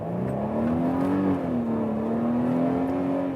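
A Mercedes SUV engine accelerating hard from inside the cabin, a steady, smooth rising drone with a sustained tone that climbs, dips slightly and climbs again, loud and continuous throughout.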